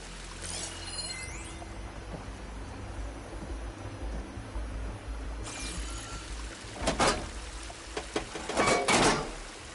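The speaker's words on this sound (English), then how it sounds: "The water is still leaking." Water leaks from a sabotaged pipe in Horizon Forbidden West as a continuous hissing, splashing rush, with two louder gushing surges near the end.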